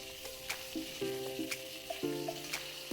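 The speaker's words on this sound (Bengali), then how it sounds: "আঁচটা কমিয়ে দিয়ে বেগুনটাকে ভালো করে ভেজে নিতে হবে" Soft sizzling of eggplant frying in oil over low heat, a steady crackle with faint clinks and tones in the background, no talking.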